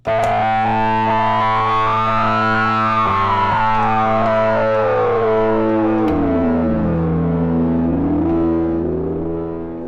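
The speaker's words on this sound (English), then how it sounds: "There's a dirty, abrasive drone, and it sounds great." A thick, distorted synth drone from Arturia V Collection X holds a gritty sustained tone while its pitch sweeps up, then slides down and wavers, loud and unbroken throughout.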